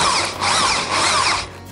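An electric drill turns an old Soviet hand meat grinder through a 12 mm socket, giving a loud, close, steady whirring whine that swells and dips slightly before easing off, with no talking.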